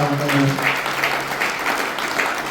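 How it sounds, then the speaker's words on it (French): A crowd claps steadily, a dense patter of applause with a voice briefly audible at the start. "Alors applaudissez bon Dieu pour ça."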